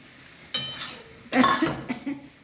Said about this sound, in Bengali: এবারে আমি এই আলু ভাজা আলুটা মিশিয়ে দিচ্ছি